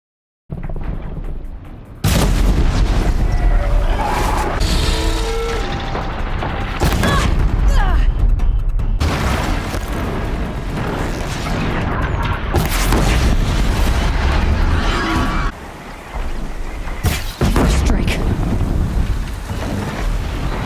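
Arrows from a bow strike robotic machines' weak spots in Horizon Zero Dawn, heard as a series of loud booming impacts and whooshes. Dense, windy-sounding game effects run continuously between the hits over about twenty seconds.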